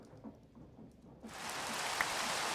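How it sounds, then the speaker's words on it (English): Rain in the video game Minecraft starts abruptly after a quiet moment, then holds as a steady, dense hiss of falling drops to the end. "And now it's raining."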